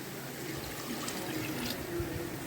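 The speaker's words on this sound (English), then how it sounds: "throw in the marinade mixed with the water" Marinade mixed with water is poured into a pot of chicken biriyani, a soft continuous liquid trickle and splash, fairly faint and close.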